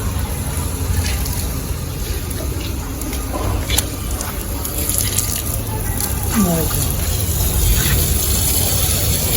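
Water sprays and splashes continuously onto an air conditioner's filter screens, with muddy dripping and running water throughout, fairly loud and close.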